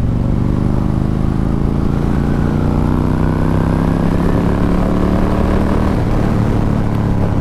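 Harley-Davidson Road King motorcycle pulling away in third gear from about 40 mph on a gentle roll of the throttle, its loud, steady engine drone filling the whole stretch with no break.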